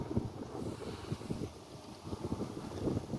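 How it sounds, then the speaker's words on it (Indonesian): Strong, steady wind buffets the microphone at a toll road construction site, producing a continuous low rumble with gusty swells and no voices. "Untuk saat ini kondisi angin masih sangat kencang"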